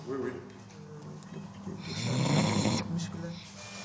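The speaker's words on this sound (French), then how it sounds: "Ça ronfle bien, monsieur." A patient under anaesthesia snores on the operating table during cleft lip surgery, with slow, rough, rattling breaths that swell loudest midway, close and steady. Soft voices murmur underneath.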